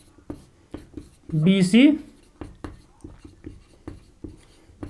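Chalk or marker scratches out a run of short, regular strokes on a board during a Hindi physics lesson on p-n junction diode rectifiers, heard close and clear between stretches of a teacher's speech.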